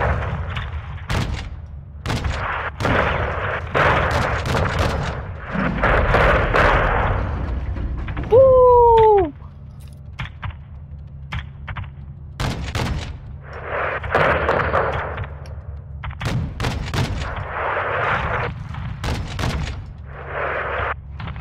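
Repeated gunfire and heavy cannon bursts from a 40 mm gun in Call of Duty Modern Warfare 2, irregular volleys of loud sharp blasts with rumbling booms between them and a brief whining tone partway through.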